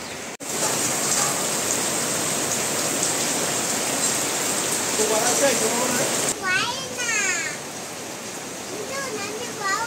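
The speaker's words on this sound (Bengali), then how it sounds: "বৃষ্টি নামছে।" Heavy rain pours down in a dense, steady hiss that fills the whole stretch, with voices and a few brief chirpy tones surfacing near the end.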